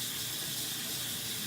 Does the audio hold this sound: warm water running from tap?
yes